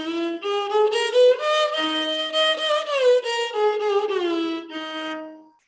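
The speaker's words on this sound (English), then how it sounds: "I'm going to change some of the notes, and I'll get a raga called Maya Malavagavla." A single melodic line moves through the Carnatic raga Mayamalavagowla, with sustained, smoothly gliding notes that sound close and clear, without accompaniment or speech.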